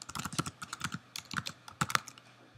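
Code typed on a computer keyboard, a close, irregular stream of crisp key clicks with a few louder taps, continuous and without talking.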